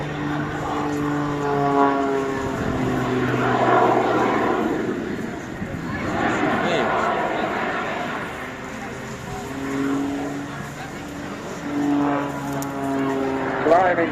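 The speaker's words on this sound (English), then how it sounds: "Sounds very strange, having a bit of jet noise as well there." A Jet Pitts Special biplane fitted with added jet engines performs at the Eastbourne Airshow 2023, its propeller drone and jet whine rising and falling as it passes, under continuous commentary.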